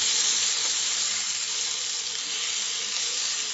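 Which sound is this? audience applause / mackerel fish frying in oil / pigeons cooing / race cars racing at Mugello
mackerel fish frying in oil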